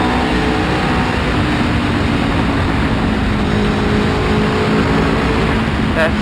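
An Aprilia Tuono 1100 V4 motorcycle climbs a mountain road at Genting, its engine droning loud and steady under heavy wind rush for several seconds, without a clear break or shift.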